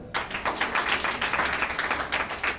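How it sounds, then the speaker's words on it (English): Audience applause after a speech at a university cabinet swearing-in ceremony, many hands clapping in a steady, fairly close patter that starts abruptly and continues throughout. "you deserve a mighty hand clap"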